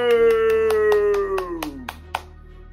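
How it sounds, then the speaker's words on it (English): A few hands clap at an even beat over a sustained sung or tonal note that slides downward, the claps growing more scattered as the tone fades. "Clap it up."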